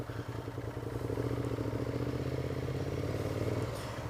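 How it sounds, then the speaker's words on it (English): A red Ducati motorcycle with an L-twin engine runs close by, a throbbing, uneven engine pulse that swells slightly in the middle and holds steady with no talk. "Ducati L-twin engine in it."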